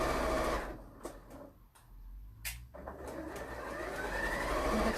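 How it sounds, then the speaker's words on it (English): Sewing machine stitching a flat fell seam on white fabric, a steady close mechanical hum with short clicking interruptions partway through. "I'm going to stitch this seam."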